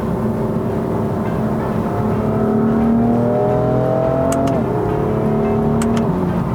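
A BMW M4 Competition F82 pulls hard, its engine note climbing loud and close. The DCT gearbox snaps through a quick shift and the revs drop sharply before climbing again, with no voices heard.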